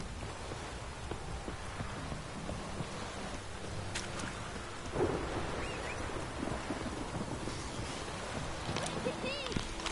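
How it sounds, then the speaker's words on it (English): Rain pours steadily in a thunderstorm in the video game The Witcher 3, with a low rumble of thunder building midway; the storm carries on as a continuous wash of sound, with game audio faintly underneath. "I'm not walking through this storm"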